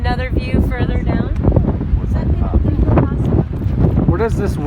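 Steady wind buffeting a microphone outdoors along a lake near mountains, a loud continuous rumble with gusts, heard under people talking.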